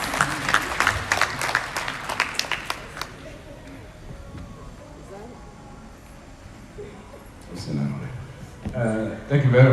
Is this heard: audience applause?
yes